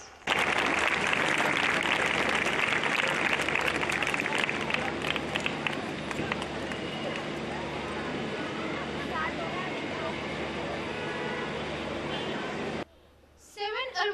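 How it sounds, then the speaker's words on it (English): Audience applause at a school annual day, a loud, dense wash of clapping from a large hall crowd that holds steady for several seconds, then cuts off abruptly near the end, with faint voices audible underneath. "Give them a huge round of applause"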